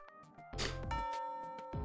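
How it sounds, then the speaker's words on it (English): A school bell chime in the video game Fate/Extra, a short bright ding-dong tone sounding over soft game background music, clear and close, lasting under two seconds. "The bell rings"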